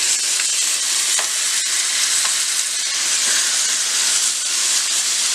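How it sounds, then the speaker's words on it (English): A filet steak sears in a pan over extreme high heat, giving a loud, continuous close sizzle and hiss with small popping crackles, no voices. "So I'm going to brown that filet on both sides."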